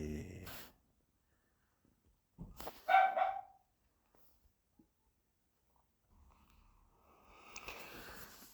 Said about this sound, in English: if you hear the dog barking in the background